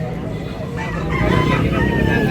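A one-year-old gamefowl bullstag with pumpkin colouring and white legs crows once at close range, a drawn-out call over steady background noise, in a gamefowl market setting in Tabunok, Cebu.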